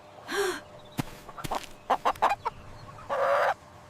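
A cartoon mother hen clucks on a farm: a series of short, sharp clucks and pops sits between two longer, brighter squawking calls.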